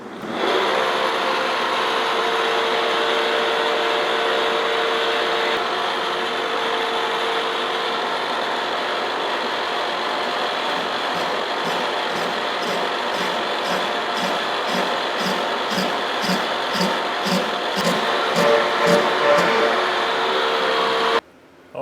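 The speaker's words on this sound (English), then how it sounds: "So we're gonna go ahead and just run that and see how it cuts." A manual lathe bores out a 100-year-old steam cylinder, a continuous loud grinding cut that turns into a rhythmic, pulsing chatter in the later half before stopping abruptly.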